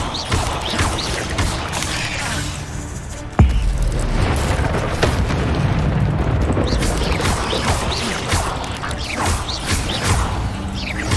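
The Incendio fire spell is cast in Hogwarts Legacy, a sharp burst followed by a sustained loud rumbling roar with crackles and mechanical creaks, no clear talk.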